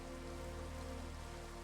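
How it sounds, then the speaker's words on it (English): Steady rain in Minecraft hisses as an even, continuous wash of drops at low volume, with no voices. "Well, I woke up and it immediately started raining."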